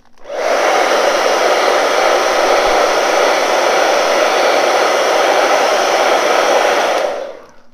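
A hair dryer blows steadily on wet acrylic paint, switching on with a loud close whoosh, holding an even roar for about seven seconds, then cutting off.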